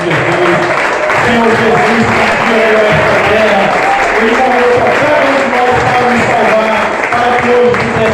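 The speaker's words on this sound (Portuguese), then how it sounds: "Coloque sua Bíblia no seu assento e aplaude a palavra do Senhor Jesus." Church congregation applauding at an Easter Sunday service, loud sustained clapping from a large crowd with a voice speaking over the top.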